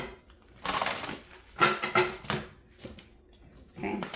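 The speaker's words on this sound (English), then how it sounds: "Spirit's telling me to do these a good shuffle." Tarot cards are shuffled close by in a few quick riffling bursts with short pauses between, a soft papery rustle and flutter at low volume.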